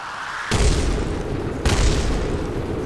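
Rocket parts exploding in Kerbal Space Program: two loud, sharp booms about a second apart, each with a rumbling tail and continuous roaring noise between them, with no talking.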